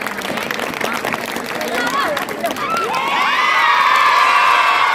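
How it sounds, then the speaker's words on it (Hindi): A school annual function audience claps and cheers while an announcer speaks over the noise, then rising whoops and shouts from children swell into a loud, sustained crowd roar. "आपकी पुरजोर तालियों में फेरोज सर भी यहाँ पर आए"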